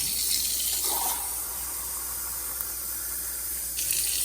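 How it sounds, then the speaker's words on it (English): A cup of cold water poured into an Urpower humidifier tank, a steady close rushing pour and splash that runs on for a few seconds without speech. "Now I'm gonna pour this cup of cold water inside here."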